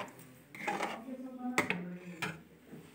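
A pot of sweet vermicelli (sevai) being stirred, with close spoon scrapes and clinks against the metal rim, irregular and moderately loud.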